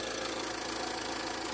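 Citroen Dispatch van engine idling with a turbo position fault, a steady low-pitched mechanical hum with a fine regular pulse, close and constant.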